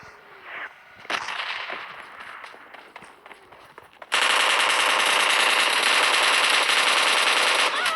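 Machine gun fire in PUBG Mobile Lite: quieter game movement and scattered noises give way to a loud, sustained burst of rapid automatic shots that fills the second half.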